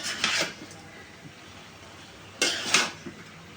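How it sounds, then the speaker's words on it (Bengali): Dried fish being stirred into cooked pumpkin greens and potatoes in a pan, with two short bursts of scraping and clattering against the pan near the start and again toward the end, and a quiet background between them. "এখন নাড়া মানে এখন শুটকিটা মিশিয়ে দিব সবজির সাথে"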